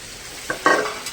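Chicken pieces with turmeric, masala and curd are stirred into a hot pot for biryani, giving one brief close scrape and wet sizzle over a soft frying hiss.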